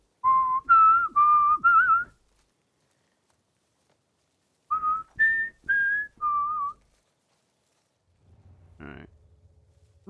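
Mockingjay-style whistling in The Last of Us Part II: two bursts of four clear, rising and falling birdlike whistled notes, separated by silence, followed by a faint brief thump.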